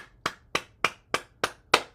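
Six evenly spaced hollow slaps of cupped hands patting the body during a morning bouncing exercise routine, each a crisp, close single hit with short gaps between.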